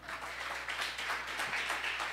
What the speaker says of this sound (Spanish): ¿Cuántos aplaudimos al Señor?